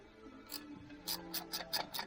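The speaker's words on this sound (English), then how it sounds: "So here's the 15 on the top, the speed wrench" A short 15mm speed wrench turning a bolt near the alternator on a 2009 Cadillac CTS 3.6 engine: a run of quick, crisp ratcheting clicks in irregular bursts, close and fairly quiet.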